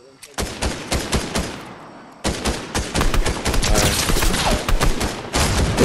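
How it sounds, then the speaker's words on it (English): Sniper gunfire in a Fortnite match, with rapid loud shots cracking in dense clusters, a short lull, then continuous heavy firing to the end. "They're sniping."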